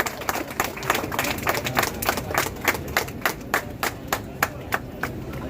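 An audience claps at a dance and dance-master association event in Gajuwaka, Visakhapatnam: brisk, fairly even claps repeating several times a second, moderately quiet, with no talk over them.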